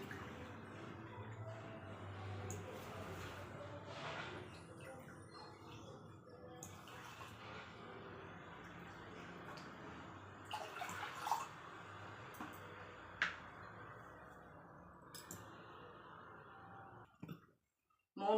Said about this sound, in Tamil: 1 கப்பு கொள்ளுக்கு 3 கப்பு தண்ணி ஊற்றணும்.